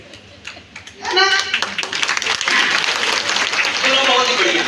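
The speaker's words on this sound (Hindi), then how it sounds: "मेरी बातें जितने लोगों को समझ में आ रही होगी वो यहाँ पे ताली बजाएंगे" Audience at a motivational talk in Surat breaks into clapping after a spoken prompt, quiet voices giving way to a sustained, loud wash of applause that keeps building to the end.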